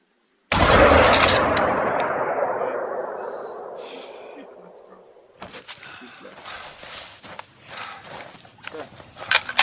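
A single loud hunting-rifle shot in The Hunter: Call of the Wild, a sharp crack followed by a long echoing rolling decay across open wilderness, then quieter rustling movement and a voice talking.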